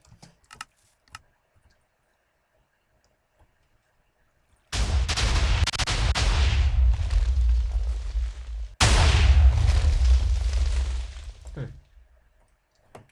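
Two long, roaring blasts from a cannon in a video game, each kicking in abruptly and rumbling loudly for several seconds, the second following right after the first, with faint clicks and quiet before them.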